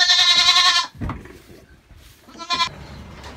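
A young goat on a farm gives a loud, close, wavering bleat, then goes quiet, followed by a shorter second bleat and a faint, softer call near the end.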